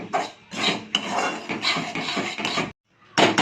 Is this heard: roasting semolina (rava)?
yes